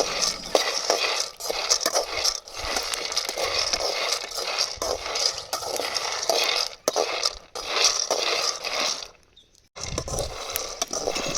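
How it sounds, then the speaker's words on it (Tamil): Peanuts dry-roast in a pan for a ragi laddu, a busy rattling and scraping as they are stirred and tossed, loud and close, with a brief pause near the end. "இப்போது வேர்க்கடலையை வறுத்து எடுத்துக்கலாங்க. நல்லா பொன்னிறமாக வறுத்து எடுத்துக்கலாங்க."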